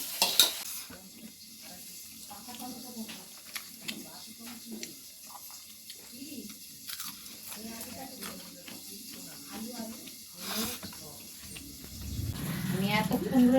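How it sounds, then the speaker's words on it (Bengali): Khoira fish frying in a home kitchen pan, a soft sizzle and occasional stirring scrapes under intermittent talking nearby. "আর এখানে মাছ ভাজছে"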